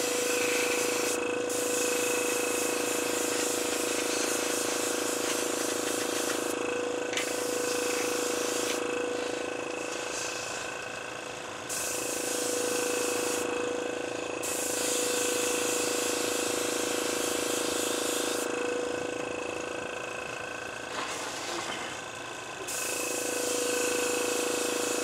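An airbrush sprays CA glue finish in long steady hissing bursts, stopping and restarting several times with short pauses, close and fairly quiet.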